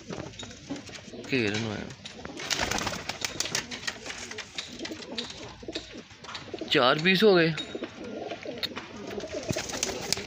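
Female moti wali desi pigeons coo repeatedly in low, warbling rolls close by, while people talk over them and faint clinks of dishes come and go.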